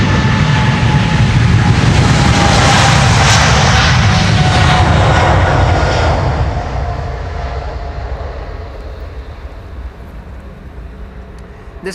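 A KLM Boeing 777-300 departing Schiphol's Polderbaan roars loudly overhead with a broad jet rumble that gradually fades as it climbs away.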